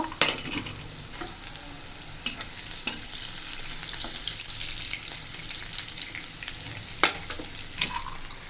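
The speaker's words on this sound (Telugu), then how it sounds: "ఇలా ఈ ఆయిల్లో వేసుకుంటామండి. ఇవి కూడా బాగా వేగాలండి." Raw peanuts fry in hot oil in a pan for a curry, giving a steady close sizzle with occasional sharp crackles, clinks and stirring scrapes, and no speech.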